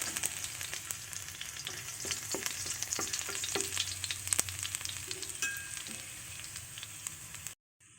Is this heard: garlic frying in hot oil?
yes